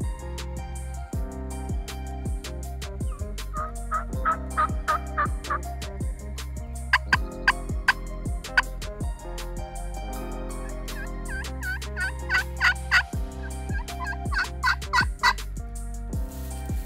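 Wild turkey gobbling repeatedly at dusk in Kansas, a series of loud rattling gobbles coming in bursts from a roosted bird, with steady background noise underneath.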